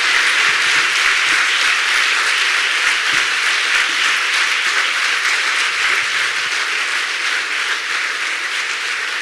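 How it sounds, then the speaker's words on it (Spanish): Conference audience giving a long round of applause for speaker Pilar Rahola, dense and loud clapping that holds steady from start to finish with no talk over it. "un aplauso muy grande para Pilar Rahola"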